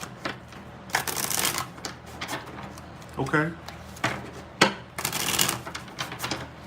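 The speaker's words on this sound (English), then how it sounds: "Fast shuffles, as usual." Rapid riffling bursts of tarot cards being shuffled come in several quick runs, close and crisp, with a person speaking briefly between them.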